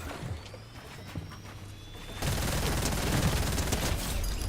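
Charge SMG firing in Fortnite, a dense stream of rapid shots that grows louder and busier halfway through, heard at a moderate distance with no talk over it.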